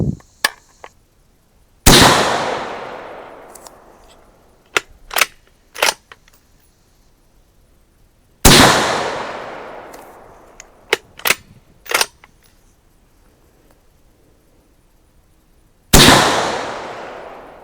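Three sharp, loud rifle shots from a 5.56 Arsenal bolt action AR15 with an Aero Precision barrel on a shooting range, each with a long decaying echo, roughly eight seconds apart, with metallic bolt clicks working the action between shots.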